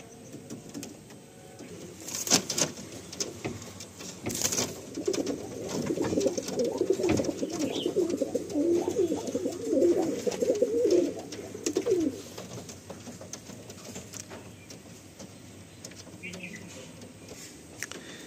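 Madrasi pigeons coo in a low, rolling murmur for several seconds, close by, with occasional clicks and light rustling around them.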